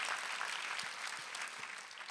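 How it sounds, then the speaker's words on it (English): A church congregation claps together in a dense, even burst of applause that stays steady and fairly soft throughout, with no voices rising above it. "Could we clap and thank God?"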